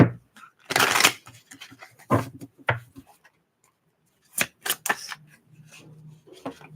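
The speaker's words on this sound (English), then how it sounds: "Last shuffle." Tarot cards are shuffled up close in several bursts of riffling and soft slaps, separated by quiet pauses, with a faint low murmur at the end.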